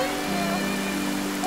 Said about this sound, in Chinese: 越下越大了